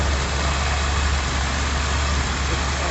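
The engine of a 1991 Dodge Ram B250 van runs steadily and loudly at close range, giving a dense, continuous rumble without talk.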